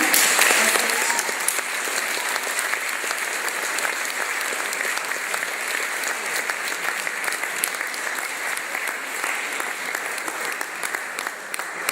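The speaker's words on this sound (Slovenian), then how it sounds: "predlagam, da jih pospremimo s toplim aplavzom" Sustained warm applause from an audience in a hall at a welcome ceremony for first-grade pupils, dense, steady clapping lasting throughout at even loudness.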